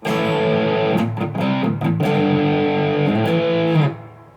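Heavily distorted electric guitar through a Positive Grid Spark amp's rock preset plays a short chugging riff, chords ringing thick and loud before cutting off abruptly.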